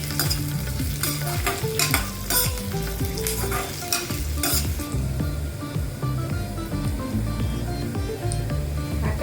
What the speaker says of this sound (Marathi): डाळ टाकते भाजलेलं, हे छान भाजून घ्यायचं आहे सगळं.